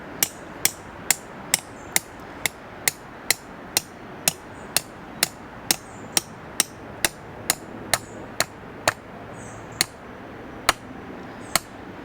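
Sharp, evenly spaced hammer blows, around twenty in a row, drive pins to hold bricks and a piece of retaining wood in place while laying a cabin base. Each strike rings out close and loud over a quiet background.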